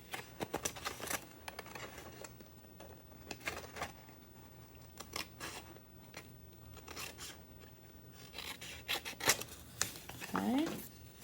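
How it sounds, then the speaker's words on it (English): Scissors cut through a paper envelope for a gift card holder, with soft snips and paper rustling and rubbing that are quiet and intermittent, picking up near the end. "I'm going to cut again, making sure that I don't cut my envelope open"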